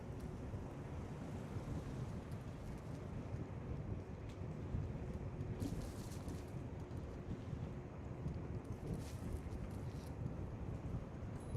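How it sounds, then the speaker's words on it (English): Wind buffets a microphone on an e-scooter ride through Toronto, a steady low roar with occasional harsher gusts, no speech. "It's also quite windy"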